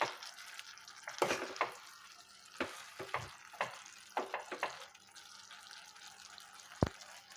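A cauliflower and tomato curry is stirred in a pan. Close, irregular scrapes and clacks of the spoon come over a soft sizzle, and one sharp knock lands near the end.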